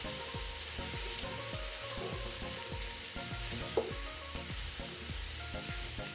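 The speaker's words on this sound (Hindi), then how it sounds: "प्याज डाल के हल्की आंच पे इसको फ्राई करना शुरू कर दें" Onions fry in oil over low heat in a pan for chicken biryani, a steady close sizzle with a regular rhythm of stirring scrapes and a sharp clink near the middle, with no voices.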